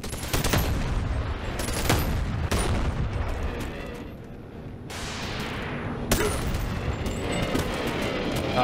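Gunfire in the VR game Bonelab, a loud close volley of sharp repeated shots in bursts with crashing impacts and brief lulls between them, no speech.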